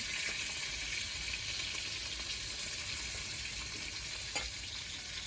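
Fish fries in a pan with a loud, steady hiss of sizzling oil, close up and continuous, with a faint clink near the end and no speech.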